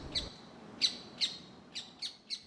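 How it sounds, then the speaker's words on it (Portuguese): A rufous hornero sounds its alarm call, a run of six sharp, high chirps spaced about half a second apart, fairly near and clear over a quiet outdoor background. "o João de Barro dá o alarme. Tem perigo na área."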